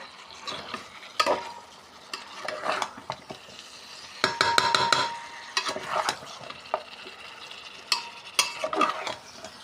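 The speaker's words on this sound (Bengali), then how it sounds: "এবার দিয়ে এটাকে ভালোভাবে নাড়িয়ে নিতে হবে।" Spoon scraping and stirring in a pan as chili powder is worked into a frying dish, close and clattery in uneven bursts over a faint sizzle, no talking.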